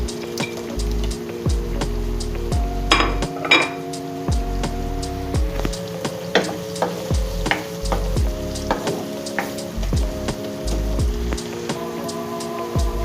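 Onions and whole spices sizzle steadily in a hot pan for bhindi mutton curry, with occasional clinks of a utensil stirring, close and fairly loud.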